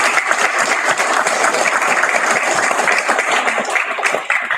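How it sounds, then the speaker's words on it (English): Sustained applause from a room of attendees honoring faculty and staff at a top ten freshmen academic ceremony, dense and steady throughout, fairly close, with no break in the clapping. "give a round of applause to all of the faculty and staff"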